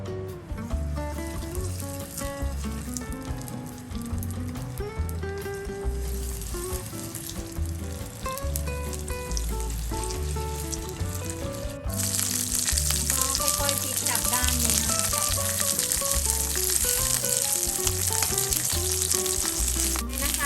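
Flour-coated okra fries in hot oil in a home kitchen, a steady close crackling sizzle with bubbling and light stirring that grows louder and brighter partway through, under faint background music.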